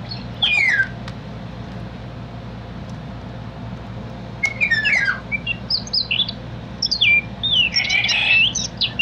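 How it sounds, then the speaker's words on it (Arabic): Oriole song played back through an electronic bird-call device, a series of clear whistled phrases and chirps over a steady low hum and background noise, sporadic at first and then denser toward the end. "رقم 12 صوت الصفاري مع صوت"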